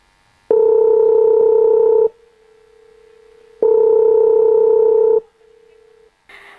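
Telephone signal tones heard during a school classroom drama: two long, loud, steady beeps, each about one and a half seconds, separated by a quieter pause, ending with a brief different tone.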